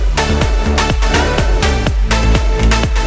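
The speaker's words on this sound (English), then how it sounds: "Oh, the music is loud here." Loud, driving music with a steady pounding beat and dense full-range sound, playing continuously without any voices.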